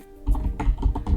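Fingers type on a computer keyboard while entering text into a text box, giving a quick run of close, crisp key clicks in an uneven rhythm with no talking.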